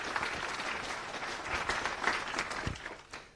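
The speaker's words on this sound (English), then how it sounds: "So let's give a round of applause to Jos." Audience applause fills a FOSDEM conference talk hall, a steady wash of many hands clapping at moderate volume that tapers off near the end.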